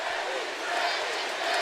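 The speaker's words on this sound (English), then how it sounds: "The crowd chant Deji." Arena crowd at a Jake Paul vs Deji boxing match roaring and chanting for Deji, a dense, steady wall of massed voices filling the space for under two seconds.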